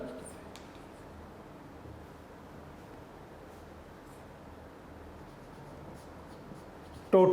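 A marker writes a heading in blue on a classroom board, a continuous soft scratchy stroke that runs steadily for several seconds at close range before a sudden louder noise at the end.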